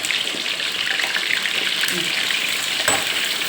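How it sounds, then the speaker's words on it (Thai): Pieces of sea bass fry loudly in a pan of hot oil, a dense continuous crackling sizzle close up with a brief sharp spatter near the end. "ทอดปลากระพงนะคะ"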